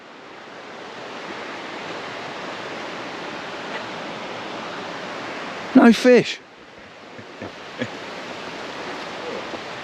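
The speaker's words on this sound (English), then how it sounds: "The river's running both sides." Rapids rushing around a river island near Inverness, Scotland, a steady broadband roar of water throughout, with brief talk and a few footsteps or bumps partway through.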